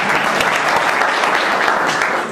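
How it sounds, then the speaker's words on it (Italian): Loud, sustained applause from a crowd at a Five Star Movement political rally in Villafranca Padovana, a thick, continuous roar of clapping held at an even level throughout. "Riservate questi applausi"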